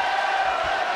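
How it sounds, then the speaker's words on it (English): In WWE 2K20, a Birmingham arena crowd lets out a loud, unbroken roar of cheering that holds for the whole brief moment. "just listen to this Birmingham crowd as this one gets underway. They're deafening."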